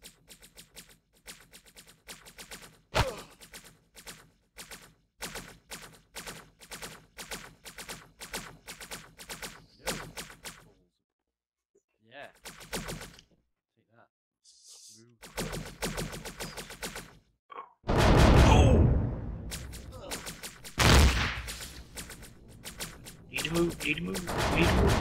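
Video game gunfire rattles in long rapid bursts of sharp, evenly spaced shots, broken by brief pauses, then returns as heavier, louder blasts near the end.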